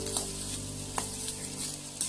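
Peanuts frying with chili powder, salt, turmeric and cumin for a Bengali singara filling, a steady soft sizzle with a few light stirring scrapes, close and without talk.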